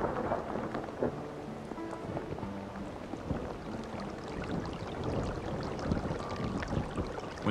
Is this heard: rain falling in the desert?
yes